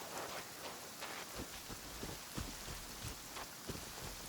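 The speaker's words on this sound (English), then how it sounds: "seeing as it's raining" Rain in the video game Genshin Impact, a steady soft hiss of falling drops with scattered patters, faint and continuous with no talk.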